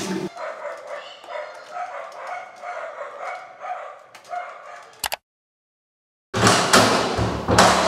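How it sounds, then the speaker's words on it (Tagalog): A neighbor's dog barks repeatedly at a moderate distance for several seconds, then a brief thump, a pause of silence, and a burst of loud noise. "At aso rin pala sa kapitbahay."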